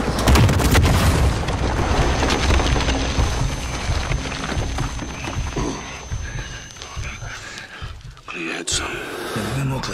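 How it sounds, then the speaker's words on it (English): Missile explosions in the Call of Duty video game: heavy, continuous booming and rumbling blasts that stay loud for most of the stretch, thin out briefly near the end, then flare up again, with voices under the noise. "Missiles incoming!"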